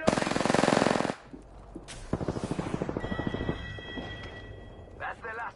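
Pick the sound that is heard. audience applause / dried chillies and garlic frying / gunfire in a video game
gunfire in a video game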